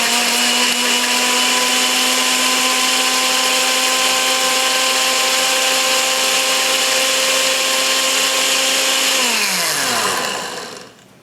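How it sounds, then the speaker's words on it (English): An electric blender purees peeled tomatoes for okra stew, a loud steady motor whine held for about nine seconds before the pitch sinks and the motor spins down to silence. "Then I blend this till I get a smooth texture."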